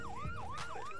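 Wailing ambulance siren from the video game Call of Duty Ghosts, a rising and falling electronic tone sweeping in steady cycles, loud and continuous with game noise beneath.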